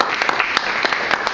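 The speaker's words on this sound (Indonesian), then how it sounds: "Tepuk tangan" Short burst of hand clapping from a seminar audience during a customer-service talk, a handful of sharp claps scattered over a second or so, fairly close and without speech.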